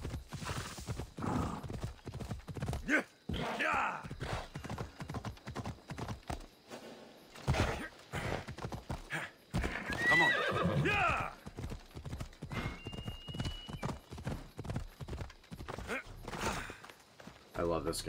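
Horse hooves clip-clop steadily with a whinny, mixed with game sound effects from Assassin's Creed: Odyssey while a person talks continuously over them.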